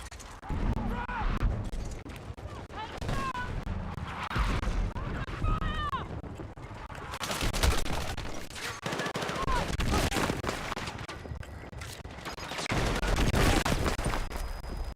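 Mortar fire and explosions in the video game Battlefield 6: dense, loud gunfire and booming blasts that keep going throughout, with a voice talking over the battle.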